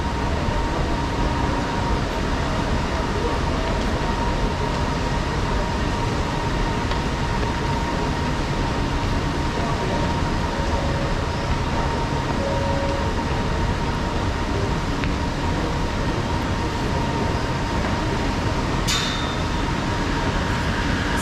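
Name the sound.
MRT subway train ride in Kuala Lumpur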